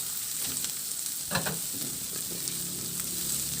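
Onion and garlic sauté in a pan, giving a steady close sizzle with a few stirring scrapes partway through and no talking.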